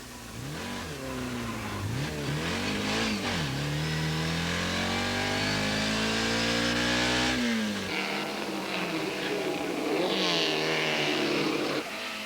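An Austin-Healey racing car at the 1990 Grand Prix de l'Age d'Or, heard from a camera on its bonnet. The engine is loud and close, rising and falling steadily through revs and gear changes, then drops off sharply before climbing again.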